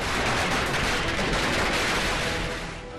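Firecrackers set off by celebrating party workers in Pune burst in a dense, continuous crackling volley, loud and close, fading slightly at the end.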